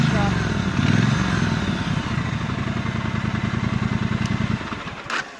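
A Brixton Cromwell 1200 motorcycle engine idles with a steady, deep, thumping pulse. Close and loud, it ends with a brief small blip of the throttle.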